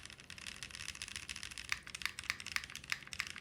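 Mechanical keyboard switches clacking under steady typing, a quick run of soft keystrokes with several sharper, louder presses standing out, close and without talk.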